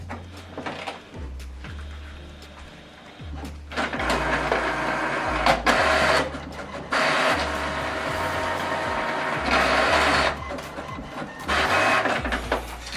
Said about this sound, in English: So now this document is going to print out double-sided.